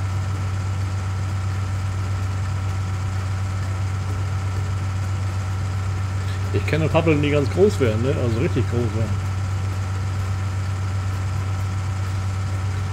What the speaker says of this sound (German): Das ist ein bisschen schwacher Traktor dafür